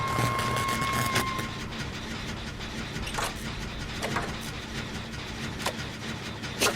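Repairing a generator in the video game Dead by Daylight: a continuous mechanical rattle and engine-like hum, with a brief whine at the start and scattered clanks and clicks.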